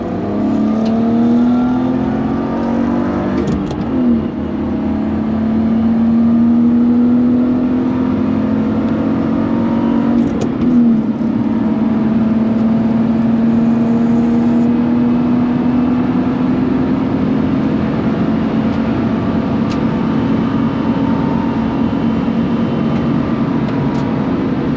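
A track car's engine drones loudly through a lap, pitch climbing steadily as it accelerates, with brief dips at gear shifts around four and eleven seconds before resuming its rising whine.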